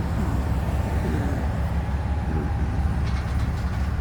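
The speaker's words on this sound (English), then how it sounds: "I'm trying to watch the locomotives and see what's going on." Florida East Coast Railway freight locomotives and cars rumble by close up, giving a steady, loud low-pitched rolling roar with faint clanking on top and no talking.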